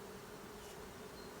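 An agitated honeybee hive buzzes with a dense, continuous drone, a steady, even hum that fills the air without pauses or voices, close and unbroken throughout.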